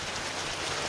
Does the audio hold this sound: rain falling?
yes